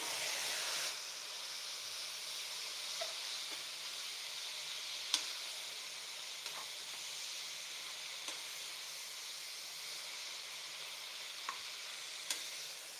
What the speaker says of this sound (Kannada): ಎಲ್ಲದನ್ನು ಹಾಗೆ ಒಗ್ಗರಣೆಯಲ್ಲಿ ಚೆನ್ನಾಗಿ ಸೊಪ್ಪನ್ನು ಬಾಡಿಸ್ಕೋಬೇಕು